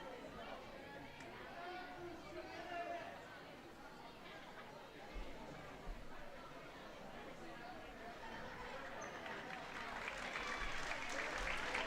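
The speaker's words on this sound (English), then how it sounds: "gets a cheer as she's able to walk it off" A gym crowd at a girls basketball game gives a steady, moderate cheer and applause for an injured player walking off, with chatter and an announcer talking over it, swelling slightly toward the end.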